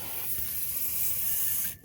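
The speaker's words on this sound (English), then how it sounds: "That's what we're gonna spray right now." A close, continuous hiss of rust-release penetrant sprayed onto an exhaust bolt on a Toyota Yaris, steady for almost two seconds before cutting off.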